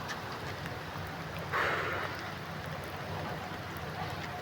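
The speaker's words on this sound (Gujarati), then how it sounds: "જોઈ શકો છો તમે કેવો જોરદાર વરસાદ છે યાર." Steady, dense hiss of heavy rain pouring down, with a brief surge of splashing partway through.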